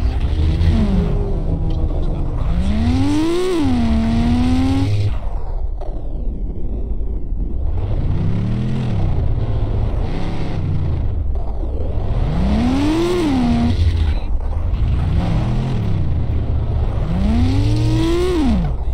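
A Nissan Skyline engine drives in a video game, droning steadily and rising and falling as it revs up through the gears again and again, loud and unbroken with no voices.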